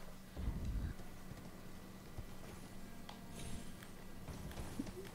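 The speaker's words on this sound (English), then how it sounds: "I think you need to use the horse here. And you need to horse jump." A horse gallops and jumps in the video game Elden Ring, its hoofbeats a steady muffled clatter under a low rumbling game soundscape, with a heavier thud near the start.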